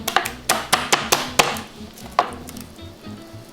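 Knife rapidly chopping a garlic clove on a board, a quick burst of sharp close taps followed by a few slower, scattered cuts.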